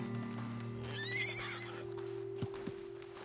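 Horses in the video game Red Dead Redemption 2 whinny with a rising, quavering neigh over a steady droning hum, followed by a couple of soft hoof thuds.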